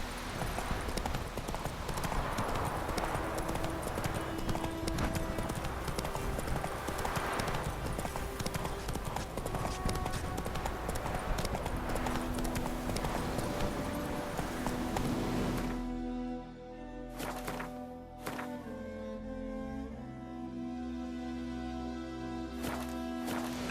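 Roach, a horse in The Witcher 3, trots with steady clip-clop hoofbeats that stay close and clear throughout, layered over continuous game music and ambience, with a short dip around the middle before the rhythm carries on.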